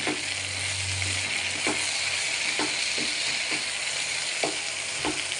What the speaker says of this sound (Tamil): மிளகாய்த்தூள், சிக்கன் மசாலா, மல்லித்தூள் போட்டு நல்லா கிளறி விட்டுக்கலாம்.